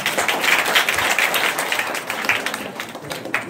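Applause from an audience at a high school naat program prize announcement, a full, ragged burst of many people clapping that stays loud, then thins and tapers slightly toward the end.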